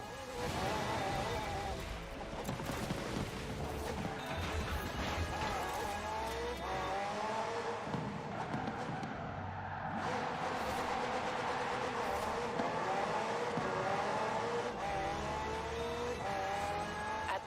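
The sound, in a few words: McLaren P1 GTR car driving in video game Forza Horizon 4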